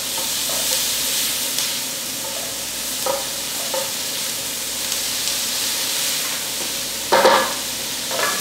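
Onions and garlic sautéing in a pan for a filet mignon vegetable soup, a steady close sizzle with occasional spoon scrapes and a louder clatter near the end, no talk.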